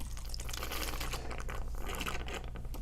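Water runs through a pressure myograph chamber during cleaning, a soft, close trickling and crinkling texture steady throughout with a low hum beneath.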